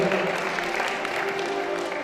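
An audience claps together at a spiritual farewell gathering, a dense, steady wash of applause that holds evenly for the whole moment.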